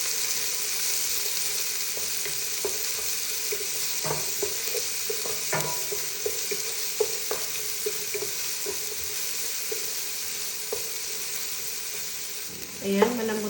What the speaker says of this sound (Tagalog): nilagyan ko siya ng konting oil, apia, at nilagyan ko na yung onion at i-mix ko na siya ng konti